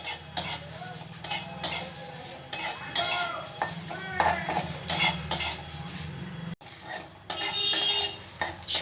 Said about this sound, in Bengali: এবার শুকনো খোলাতে আমি ভালো করে এগুলো সব ভেজে নেব।